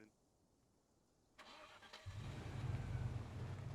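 A car engine in ARMA 3 cranks and catches at moderate distance, settling into a steady, rising low idle rumble that continues to the end.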